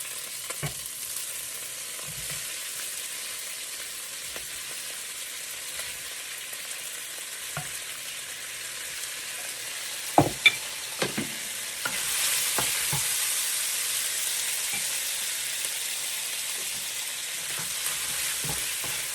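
Meat sizzles in a pan with white onions for a home-cooked dinner. A steady frying hiss goes on throughout, with occasional scrapes and clinks of stirring and a few sharper knocks partway through.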